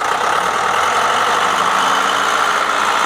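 A 1979 Case 680G backhoe sits idling, its diesel engine giving off a steady, loud, unbroken rumble at close range with no other sounds over it.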